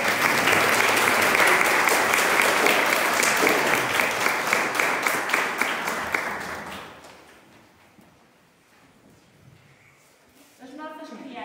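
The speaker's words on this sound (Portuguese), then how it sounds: "Uma salva de palmas para o André." A crowd applauds a child named André at a parish catechism celebration in Óis da Ribeira, a loud, dense burst of clapping that fades out after about seven seconds, followed by quiet room sound and brief murmuring.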